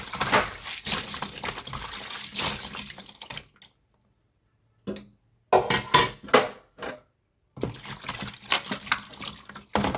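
Something is washed by hand with a small amount of water after a hurricane, in bursts of splashing and trickling that start and stop, with short silent gaps between them.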